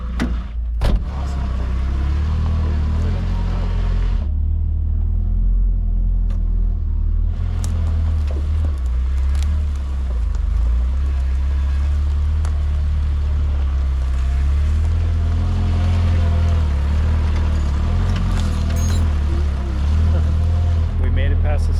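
A pickup truck loaded with firewood drives along, giving a steady deep engine and road rumble inside the cab, with a brief quieter stretch and some talking at times.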